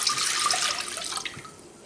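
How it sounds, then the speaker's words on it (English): Vinegar pours in a steady splashing stream into a cooking pot while making pickled sausage, the liquid rush tapering off toward the end with no voices. "I'm going to take that vinegar and I'm going to pour"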